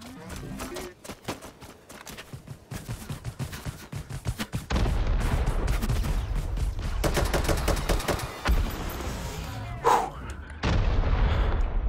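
Rapid gunshots and bursts of gunfire ring out in the VR shooter Hot Dogs, Horseshoes & Hand Grenades, coming in irregular clusters with sharp loud cracks and a few heavier booms layered over continuous game noise.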